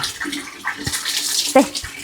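Water runs from a tap in short bursts and splashes, fairly close and uneven, with a brief clatter near the end.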